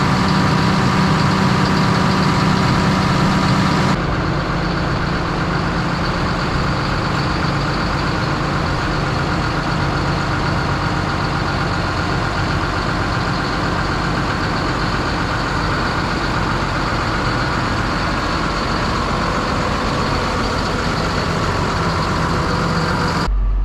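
A heavy tractor diesel engine idles steadily at close range, a constant low rumble that holds unchanged for the whole stretch with no talking.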